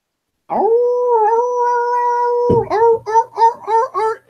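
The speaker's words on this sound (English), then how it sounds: "I don't like the sounds of those dogs." Dogs howl as a sound effect during a tabletop game: one long, sustained howl, then a string of shorter, choppy yelping howls, loud and close with no talking.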